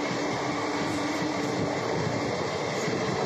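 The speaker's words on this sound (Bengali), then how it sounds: "ক্রসিং ট্রেনটা শেষই হচ্ছে না, এত বড় ট্রেন।" A very long Indian passenger train of 25 to 30 coaches rolls past a level crossing at Moradabad Junction, a steady loud rumble of wheels and cars continuing without a break, close by and alone.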